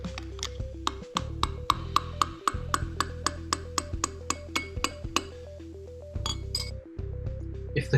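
A glass of liquid tapped again and again in a steady rhythm, each clear ringing clink shifting in pitch as bubbles rise through it, with low rumbling underneath.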